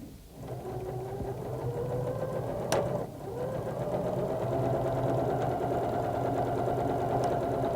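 Sewing machine with a piping foot stitching piping onto a decorative pillow, running as a steady mechanical hum and rapid needle patter throughout, close by, with one brief sharp tick near the middle.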